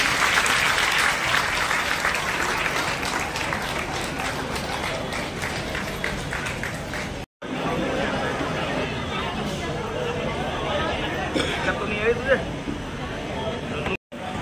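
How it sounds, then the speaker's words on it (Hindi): Loud, sustained applause from a large crowd, dense clapping filling the room with a brief break partway through before resuming. "आप लोग जोरदार तालियों से इनका स्वागत कीजिए"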